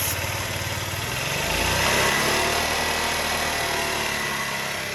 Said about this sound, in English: I think when I rev it up, it's running lean